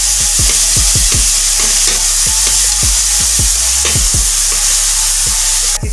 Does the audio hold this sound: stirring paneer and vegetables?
yes